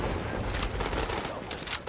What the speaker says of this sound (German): Oh, ich hab leider daneben geschossen.